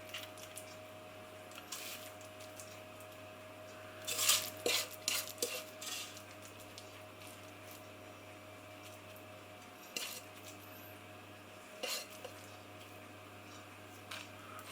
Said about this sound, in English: I'm just using a metal spoon to scrape off the mixture from the wooden spoon